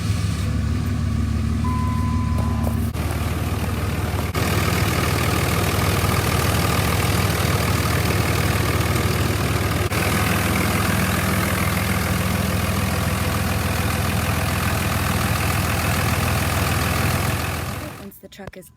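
A 2003 Ram 5.9L Cummins diesel truck engine rumbles steadily at idle, loud and close, with a deep low drone and constant mechanical noise before cutting off near the end.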